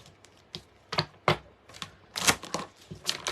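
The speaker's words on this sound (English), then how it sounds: "Oh, I love shuffling." Playing cards being shuffled during a tarot reading, a series of sharp riffling and tapping bursts in irregular rhythm, close and clear with no talk over them.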